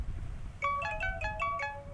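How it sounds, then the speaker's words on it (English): A creepy phone ringtone in a video game, a repeating melodic chime pattern, clear and moderately loud over a low background hum, with no talk. "Why do you have a creepy ringtone?"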